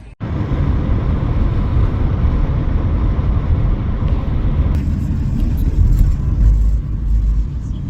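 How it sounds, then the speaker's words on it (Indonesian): A BYD car driving toward the airport, its steady road rumble and engine drone filling the cabin continuously, close and loud, with a brief dropout at the very start. "Terima kasih kepada mobil BYD itu meskipun tidak ada AC-nya"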